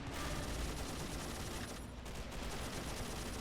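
Tank battle in Men of War Assault with Panzer IV and T-34 tanks, dense continuous gunfire and rumbling blasts that stay loud and constant throughout.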